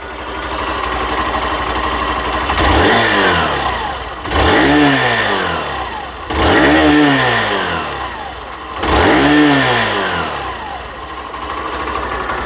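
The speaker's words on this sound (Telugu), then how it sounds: "సో ఇది ఈ బైక్ యొక్క ఎగ్జాస్ట్ నోట్" A 2023 Hero Glamour Xtec motorcycle's exhaust, revved four times in a steady rhythm, each rise climbing and falling back to a loud, close idle, with no voices.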